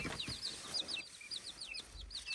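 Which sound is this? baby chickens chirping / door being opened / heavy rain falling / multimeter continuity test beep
baby chickens chirping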